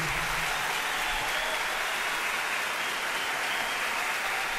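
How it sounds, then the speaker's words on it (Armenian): An audience claps for a singer on stage, with dense, steady applause that fills the whole moment at an even loudness and has no voices over it. "Բարձր ծափարենք մեր լեգենդար, մեր լավագույն տաղանդավոր"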